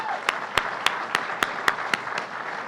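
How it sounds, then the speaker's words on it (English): Audience applause at a public event marking completion of the $150 million Woodbury Transit Hub: a steady wash of clapping with sharper individual claps standing out at a regular beat, moderately loud throughout. "I got to give you another round of applause for that."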